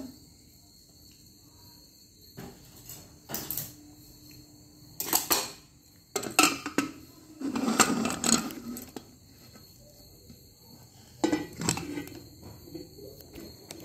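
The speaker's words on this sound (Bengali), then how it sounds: "আমি প্রেসার কুকারটা বন্ধ করে দিলাম।" A metal pressure cooker lid is handled and clicked shut in a kitchen, producing several sharp metallic clanks and rattles separated by pauses, against a quiet background hum.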